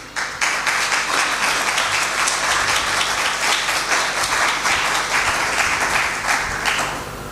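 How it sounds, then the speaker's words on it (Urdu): Sermon congregation giving a sustained round of applause in agreement, many hands clapping evenly in a loud, dense wash that tapers slightly at the end. "اگر آپ ایگری ہیں تو آپ کی تالیاں بتائیں گی"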